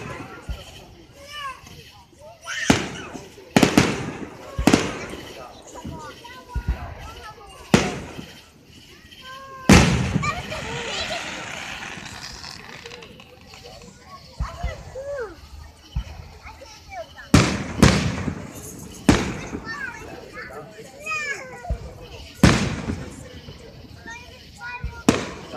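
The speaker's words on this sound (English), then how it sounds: "watch the fireworks" Fireworks display at a public show in Asheboro, North Carolina, booming in loud irregular bursts, some close together in rapid clusters, with crowd voices and talk between the blasts.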